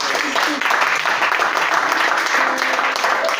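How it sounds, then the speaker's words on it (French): A church congregation at a worship service breaks into sustained applause, dense and loud, mixed with voices and cheering throughout. "On acclame le Seigneur."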